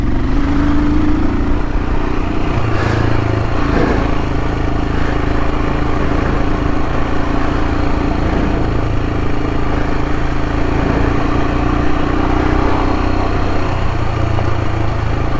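A Royal Enfield Himalayan motorcycle rides along green lanes, its engine droning steadily and loud throughout, mixed with constant wind rumble and no voices.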